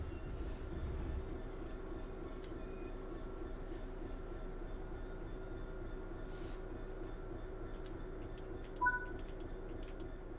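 In the video game Train Sim World 3, a train rolls along with a low steady rumble, while faint high wheel squeals and brake tones drift in and out.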